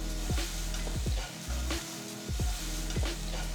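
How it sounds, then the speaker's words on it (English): Grated amla (Indian gooseberry) is sautéed with fresh curry leaves in a pan: a constant sizzle broken by repeated rhythmic scrapes of a spatula, several strokes close together. "Let's saute the grated amla for about 2 to 3 minutes"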